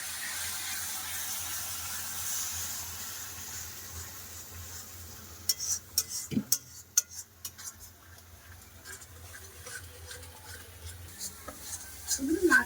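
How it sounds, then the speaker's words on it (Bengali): Masala paste of green chilli and chilli powder stir-fried in a pan for a potato meat curry. A quiet sizzle comes first, then a burst of metallic scraping and clinking from the spatula midway, easing back to sizzle with more stirring at the end. "এবার পুরো মশলাটা ভালো করে কষে নেবো"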